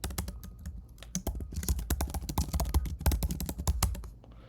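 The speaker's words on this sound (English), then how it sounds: "I meant to be typing up here." Rapid typing on a computer keyboard close by, a dense irregular run of crisp key clicks that slows and fades at the end.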